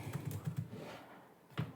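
Keys tap on a computer keyboard while a command is entered into an R console, with a quick run of soft clicks followed by a pause and one last keystroke.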